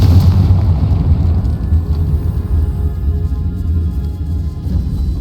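Confringo fire spell blasts in Hogwarts Legacy, set in a decaying catacomb: a loud, continuous low rumbling explosion that fills the whole moment, deep and boomy with no voices over it.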